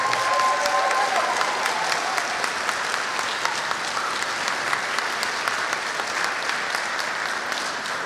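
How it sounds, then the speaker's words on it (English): Audience applause at a concert or recital, steady dense clapping from a crowd that carries on for the whole stretch without a break. "So a round of applause for Josiana Gomes, everybody."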